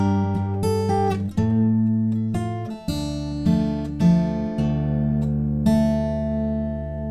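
A solo fingerstyle acoustic guitar plays the Harry Potter theme's verse line, with single plucked melody notes ringing over sustained bass strings at a slow, close, clear pace.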